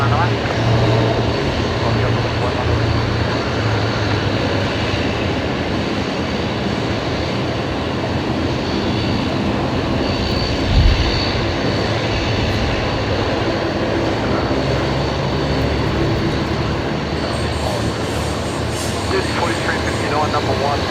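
Aircraft operating at Brisbane Airport during busy single-runway operations: a steady, broad engine roar holds throughout at moderate distance, with a brief low thump near the middle and a faint rising whine toward the end.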